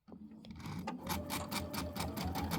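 A sewing machine stitches slowly and close by, its needle driving a steady run of rhythmic mechanical pulses.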